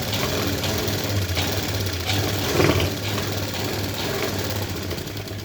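An electric sewing machine runs a straight stitch along a designer blouse seam, a continuous fast mechanical whirring with a steady rapid pulse, close and fairly loud, without any talking.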